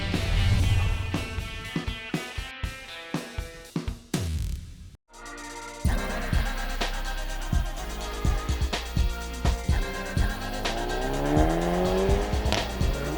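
A 2019 Hyundai Veloster N performance car lapping Thunderhill Raceway, engine roaring close and loud with rapid upshift cuts, a brief silence, then sustained revving and climbing gear pulls.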